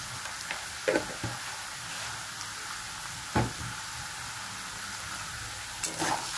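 Potatoes frying in a pan, a low steady sizzle broken by a few clanks and scrapes of the spatula as they are stirred, fairly quiet and close, no talking.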